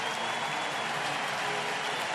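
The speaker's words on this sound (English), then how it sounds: "Nice round of applause" Steady crowd applause at a baseball game during a pitching change, a broad even wash of clapping from a large stadium audience, sustained throughout without breaks.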